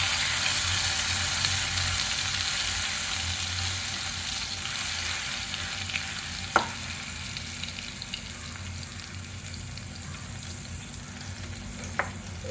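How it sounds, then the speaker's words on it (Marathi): Grated tomato sizzles and fries steadily in a hot pan as the base for a bottle gourd curry, a continuous close hiss with two brief sharp clicks of a spoon or utensil against the pan. "टोमॅटो घालू आपण आणि छान परतून घेऊ"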